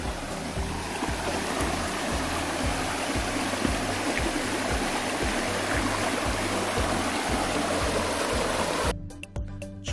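Clear mountain valley stream in Gangwon rushing steadily, a dense loud wash of flowing water close by with a faint low rhythmic thrum underneath, cut off abruptly near the end.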